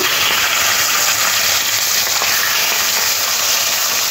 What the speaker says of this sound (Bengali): মাছগুলো এরকম লাল লাল করে ভেজে নিতে হবে